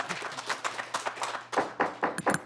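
Scattered audience clapping at a state House labor and industry committee hearing, a handful of separate claps in an uneven rhythm, moderately near, with a brief low hum underneath.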